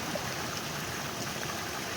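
A rocky creek in Sorsogon flows in a steady, close rush of broadband water noise with no breaks and no voices.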